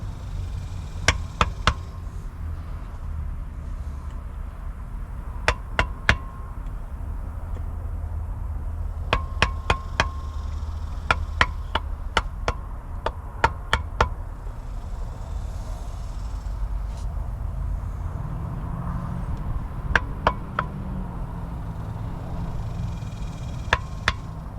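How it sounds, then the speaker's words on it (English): A hammer taps a metal panel flush on a 1950 Dodge Meadowbrook, sharp light strikes coming singly and in quick clusters over a steady low background rumble. "get our hammer, kind of just try and tap it"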